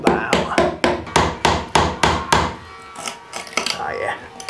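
A small Ox hammer drives a slotted screwdriver into wood during a shower installation, giving about nine sharp, evenly spaced knocks followed by a few softer taps and scraping.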